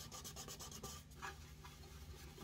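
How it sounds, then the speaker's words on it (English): Fine 800 grit sandpaper rubbing along the edges of a violin body during a repair, a soft steady rasping with quick repeated strokes early on, then lighter, fainter rubbing, close up with no voices. "do a bit of sanding just on the edges here and do some of the final polishing"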